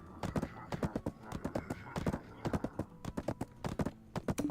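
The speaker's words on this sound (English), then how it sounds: "Oh, that person has a 4-horse cart." Dense, rapid hoofbeats from a four-horse cart in the online game Black Desert, a steady rolling clip-clop close by with no voices.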